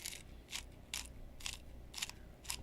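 Pink Himalayan salt crunched in a grinder, six sharp gritty crunches spaced about half a second apart, quiet and close, with no speech.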